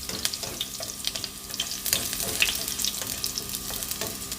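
Ginger sautés in a hot pan with a steady close sizzle, sharp crackles and spatters throughout.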